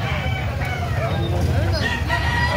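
Roosters crow and cluck at a Carbon market in Cebu, several overlapping calls ringing out amid crowd babble and low background noise.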